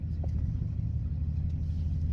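Cabin of a 2005 Chevrolet Silverado pickup on the road, a steady low engine and road rumble that fills the interior without changing much.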